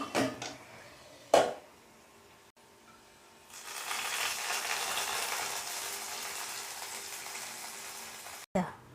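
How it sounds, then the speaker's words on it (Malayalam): Hot tempering with fried raisins sizzles steadily for several seconds as it is poured into rava pongal in a home kitchen, framed by a couple of sharp clinks of a utensil against a pot. "പൊങ്കലിലേക്ക് ചേർത്ത് കൊടുക്കാം"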